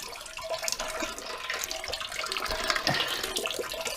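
Clean water rinses through a beer keg's pickup tube, a steady hissing, splashing flow with small gurgles and drips, close and fairly even throughout.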